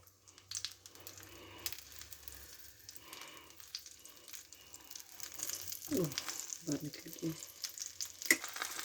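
An egg with cheese, onions and tomatoes frying in a pan gives a soft, steady sizzle, with a few brief scraping and pressing sounds near the end; the sound is quiet and close.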